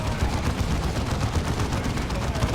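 Dense gunfire and a grenade barrage in a strategy video game battle, a steady crackling roar of rapid shots and blasts with no break.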